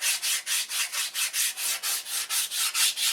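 Sandpaper on a template sanding a balsa wood airfoil: steady back-and-forth strokes, about four each second, close and even, with no other sound.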